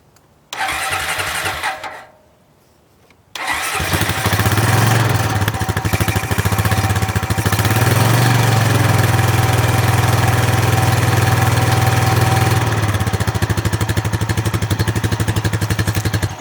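An abandoned quad ATV, left sitting for five years, is cranked briefly, pauses, then fires and settles into a steady, loud, close idle with a constant low engine drone and no talking.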